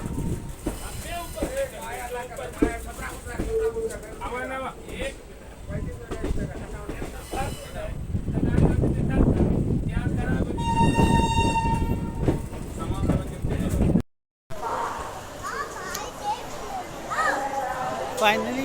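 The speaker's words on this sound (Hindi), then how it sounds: "फाइनली बलिया हावड़ा बलिया सियालदा एक्सप्रेस से हम लोगों ने डिपार्चर ले लिया है।" The Ballia Sealdah Express train pulling away from a station, with rumbling wheels, a horn blast, a clanking carriage and people talking nearby.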